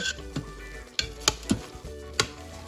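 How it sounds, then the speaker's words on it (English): Spaghetti Napolitan is stirred in an Instant Pot, a handful of distinct utensil clacks and scrapes against the pot over a low background hiss, close and fairly quiet, with no voices. "let's give this a stir"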